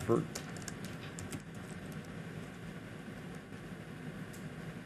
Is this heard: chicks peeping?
no